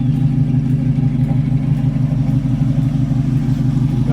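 A 1970 El Camino with an Edelbrock Performer intake, matched cam and Edelbrock carburetor idling through Flowmaster mufflers, giving a loud, steady, rumbling exhaust burble with an even rhythmic pulse close by.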